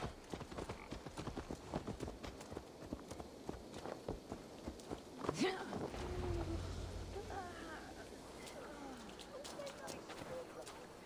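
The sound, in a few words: horse hooves galloping in video game Assassin's Creed Valhalla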